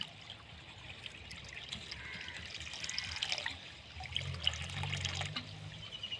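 Liquid is poured into a container for mixing a natural jasmine farming preparation. The trickle and splash are soft and close, swelling slightly midway, with a faint low gurgle near the end.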